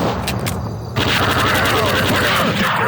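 Rapid bursts of gunfire from an alien woman's guns in a 1990s PC game, loud and close, with a brief lull before a dense, sustained volley fills the rest.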